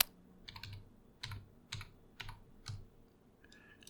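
A computer keyboard typed into a search box, several short separated bursts of crisp key clicks with brief pauses between them, close and clear, without any speech.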